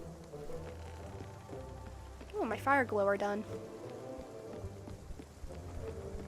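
Steady rain patters throughout a farming video game scene, a constant soft wash under a person talking, with a brief melodic game chime in the middle.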